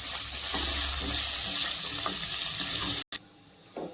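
Garlic sautéing with cashews and curry leaves in a pan gives a steady, close sizzle with soft stirring scrapes, cutting off briefly near the end before a quieter fry resumes.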